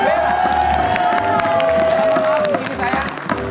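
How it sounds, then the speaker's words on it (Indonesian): A studio audience applauds and cheers on a television game show, steady dense clapping with a sustained musical tone running through it for the first two and a half seconds. "Kasih tepuk tangan untuk Bella."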